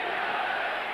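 A packed Boston Garden crowd at a 1986 Celtics basketball game roars in a sustained, dense wash of voices, a brief burst of chanting heard at a distance.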